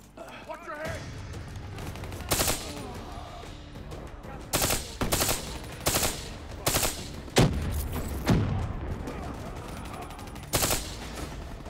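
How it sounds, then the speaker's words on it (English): Gunfire in the shooter game Call of Duty: Black Ops 3, with bursts of automatic shots in short clusters over a steady background of game ambience and voiced talk. "This gun sounds interesting."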